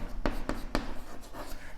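Pen or chalk strokes while writing out a math problem: three sharp, evenly spaced scratches followed by softer, fainter marks, close and alone with no talking.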